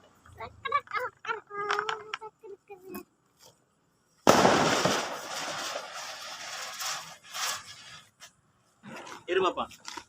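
People chatter, then a loud Diwali firecracker bursts with a sudden crack and a long crackling tail that trails off, and voices resume afterward.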